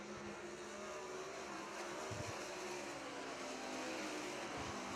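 Sprint cars racing in a heat event at Crystal Motor Speedway in Michigan, a steady loud engine roar running through the whole stretch with no voices.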